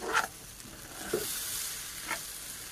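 Pulao rice frying in a pan on a home stove, a soft steady sizzle with a few brief stirring scrapes, quiet and close.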